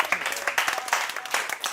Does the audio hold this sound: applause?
yes